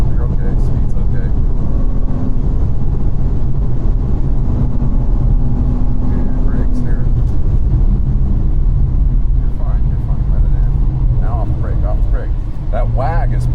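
A car laps a race track at speed during a lapping session on a one-day drivers course, its engine and road noise a loud, steady roar throughout while people talk over it.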